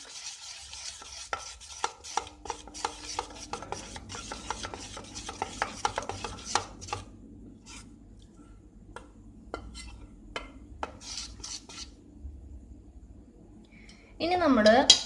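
Palappam batter stirred with salt in a bowl gives close, rubbing scrapes and light clicks, busy for the first half and then sparser and quieter, ending in a louder burst of handling.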